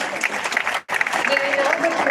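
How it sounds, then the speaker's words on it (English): Audience applause at an awards ceremony, a steady dense clapping crowd that briefly cuts out near the middle before resuming at full strength. "Please give him a round of applause."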